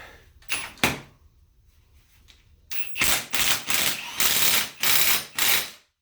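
A left-hand-thread retainer nut is fitted on a car transmission being rebuilt with a new gear set: a few early clicks and clacks, then a rapid series of loud ratchet strokes, up close.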